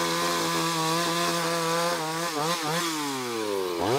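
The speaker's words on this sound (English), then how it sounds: "continues to use the chainsaw to cut deep into the tree stump" A chainsaw bites deep into a large tree stump during felling, its engine a loud, steady whine held near and alone, pitch dipping and bending as the chain bogs into the wood, then revving back up at the end.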